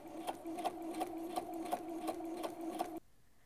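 A sewing machine runs a straight skirt seam without backstitching for a Simplicity 2172 steampunk skirt, humming with a steady, rhythmic needle beat up close, then stops suddenly near the end.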